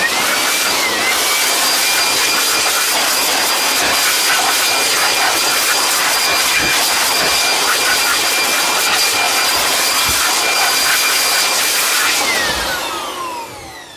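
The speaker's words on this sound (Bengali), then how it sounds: "প্রথমত আমরা একটু হাওয়া দিয়ে এটাকে একটু পরিষ্কার করে নিব" An air blower roars steadily, hissing loud and close as it blasts dust out of an amplifier, then tapers off near the end.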